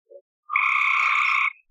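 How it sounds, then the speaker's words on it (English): A frog on a farm gives one loud, close, sustained croaking trill lasting about a second, preceded by a brief faint chirp, with quiet around it. "If you can hear the frogs,"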